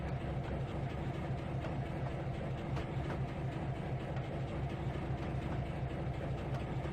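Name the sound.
Blue Comet train set running in video game Trainz 2019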